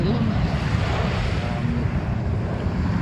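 Steady wind roars across open water while dinghy sailing on a bay, with broadband gusting and low rumble continuous throughout, no voices.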